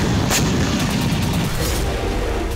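A Russian tank brigade shelling Ukrainian firing posts: a loud, heavy, sustained rumble with a sharp blast early on, dense and booming throughout.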